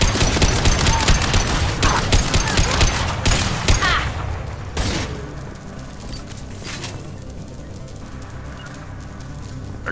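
Rapid gunfire bursts and automatic weapon fire from a Mass Effect Legendary Edition battle, loud and dense for the first few seconds, then thinning to scattered shots over a lower rumble.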